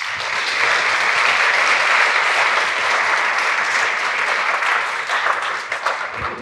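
An audience at a University of Michigan talk breaks into sustained applause as a speaker is welcomed to the stage, a loud, even wash of clapping that tapers slightly toward the end.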